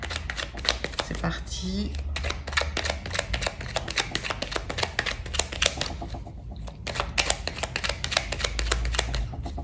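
Tarot cards being shuffled continuously, a dense close riffle of card flicks and slides that runs the whole time, with a French-speaking voice talking briefly near the start.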